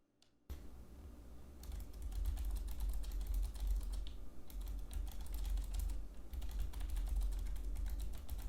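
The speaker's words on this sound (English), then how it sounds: "Let's just throw that in right now of me typing on a keyboard and seeing what they pick up" Fast typing on a computer keyboard during a microphone test for streaming, dense close clicking keystrokes in a continuous rapid patter after a brief silent start, no talk.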